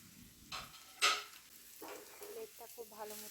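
Grated boiled egg dropped into a pan of onions fried until red gives a soft sizzle with scraping and stirring bursts, a louder clatter near the middle, then lighter frying crackle and utensil taps toward the end.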